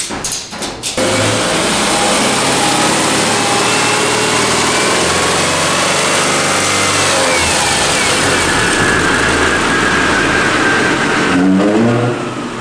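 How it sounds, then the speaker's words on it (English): A 1970 Pontiac LeMans with a 455 V8 roars loudly and steadily on a dyno pull, a dense sustained engine blare that briefly dips near the start and swells again at the end. "And then we can make V8 noises with Pontiac."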